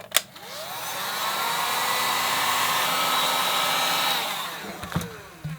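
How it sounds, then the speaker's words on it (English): A heat gun blows hot air over foam pieces for a skull prop, a steady close whooshing hiss lasting about four seconds, bracketed by a couple of clicks and knocks. "I'm gonna hit all of these with a heat gun"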